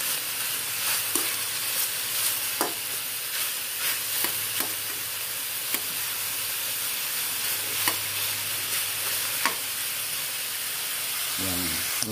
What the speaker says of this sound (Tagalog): So pagka ito, para napiprito-prito na siya